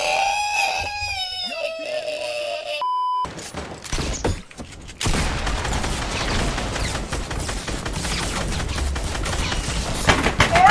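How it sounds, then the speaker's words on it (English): Fortnite gunfire in rapid bursts and dense volleys, loud and close, dominating the second half after a short stretch of game tones and a brief lull. "Where are my shots going?"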